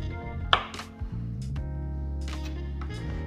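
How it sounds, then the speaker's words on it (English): A knife slices a tough strip off a raw salmon fillet on a cutting board, giving a couple of sharp cutting strokes over steady low kitchen hum. "So I'm just going to cut that off too."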